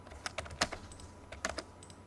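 Quick bursts of keystrokes on a computer keyboard as numbers are typed, ending with a firmer keypress for enter, close and fairly quiet, alone without talk.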